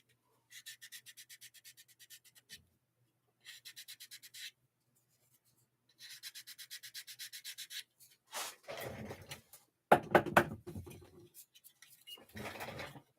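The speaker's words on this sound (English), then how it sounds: "Sanding." Hand sanding rasps in short repeated bursts of rhythmic back-and-forth strokes separated by pauses, followed by louder scraping and rubbing noises, close and fairly quiet with no talking.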